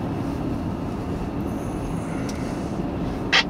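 A freight train with a KCS and CP locomotive lash-up rolls past in a steady, continuous rumble of wheels and cars on the rails, fairly close, with a faint squeal and no talking.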